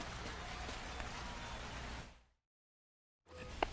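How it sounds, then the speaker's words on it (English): Steady rain hisses down on the ballpark in the MLB 25 baseball video game, a dense continuous wash that drops to silence for about a second before returning with a brief sharp tone. "We're coming right up against it with the way this rain is coming down"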